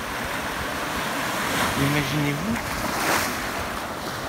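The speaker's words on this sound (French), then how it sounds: "Écoutez ces vagues qui viennent cogner contre les rochers." Sea waves wash against rocks in a steady, rolling roar mixed with wind, as a calm voice speaks over them.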